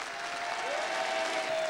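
A theatre audience at a Johnny Hallyday tribute show applauds Muriel Robin, a short, steady, dense roar of clapping heard at moderate distance, with a faint whistle riding above it.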